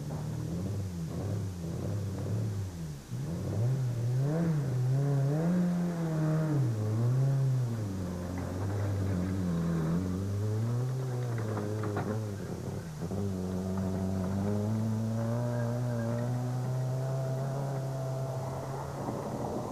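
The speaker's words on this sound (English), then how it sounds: "Vulcan decided to drive the car out and back to service" Rally car with a broken steering rod driving out of a gravel stage at the Tzaneen Rally, its engine a steady close drone whose pitch rises and falls over about twenty seconds, with no talk.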